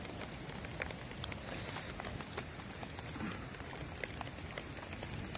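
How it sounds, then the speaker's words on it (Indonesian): Rain falls steadily at a fishing spot, a constant soft hiss with light drops pattering on nearby surfaces and no speech. "Karena posisi lagi hujan."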